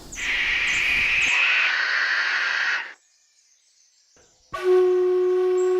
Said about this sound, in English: Masked owls are amongst the largest and the most powerful owls in Australia.